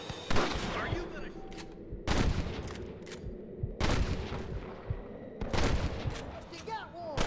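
Heavy bursts of gunfire in the Western video game Red Dead Redemption during a fight with rustlers, four loud volleys of rapid shots separated by short pauses, with shouted voices in between.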